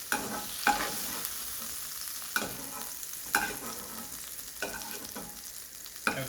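Prawns sizzle steadily in kadai sauce, broken by several sharp spoon scrapes and stirring clicks at uneven intervals, close and moderately loud with no voices.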